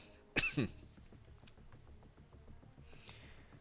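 A single sharp cough bursts out once, close and loud, during a Marvel Contest of Champions live stream, followed by quiet background game sounds.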